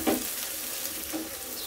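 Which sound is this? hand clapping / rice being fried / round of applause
rice being fried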